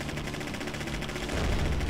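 Boss cannons in The Adventures of Sullivan firing in a rapid, continuous volley of dense thuds that swell louder toward the end.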